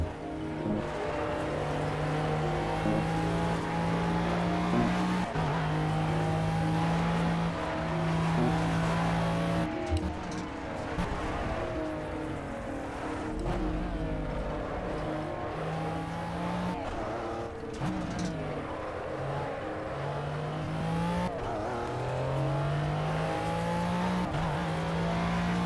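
A race car engine in a hotlapping time-trial racing video game, revving high and holding steady tones, dropping and climbing again through repeated gear shifts and accelerations, loud and continuous throughout.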